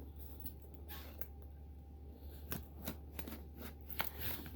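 Tape is peeled and torn from a wrestling box and the cardboard is handled, producing a string of sharp rips and crinkly rustles at close range that come in irregular bursts with no voices.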